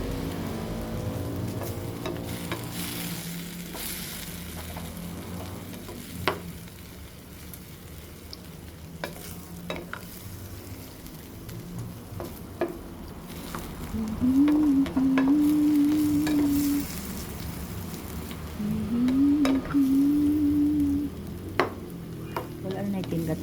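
Corned beef and potato frying in a pan, a steady sizzle with bursts of louder frying as the mixture is stirred, plus occasional scraping clicks of the utensil.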